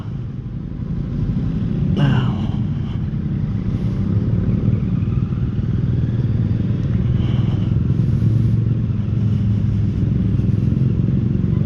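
Kawasaki Z650 motorcycle weaving through city traffic in Bacolod City, Philippines, its steady engine rumble and wind noise close up, with surrounding road traffic and occasional clatter.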